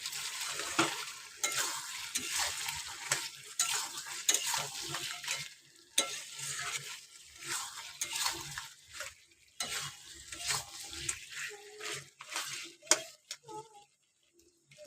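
Beef curry with meat masala being stir-fried in a pan, close and loud, with repeated scraping strokes of a spoon over a bubbling sizzle in an uneven rhythm and short pauses.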